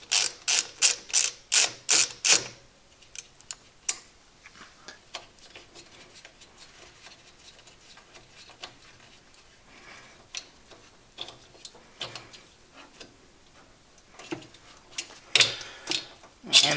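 Ratcheting clicks from a screwdriver or ratchet loosening the ground screw during a 110v/220v power upgrade on a SawStop table saw, fast bursts of ticking close to the mic, with quieter stretches between.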